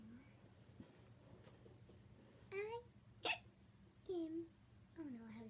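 Repeated hiccups from a voice, likely a person imitating them during a children's doll play scene, with several sharp hiccup bursts spaced irregularly over faint background sound.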